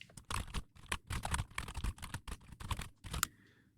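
Rapid clicking of a computer keyboard as someone types out a prompt, a quick irregular run of close, crisp keystrokes with brief pauses, heard alone without talk.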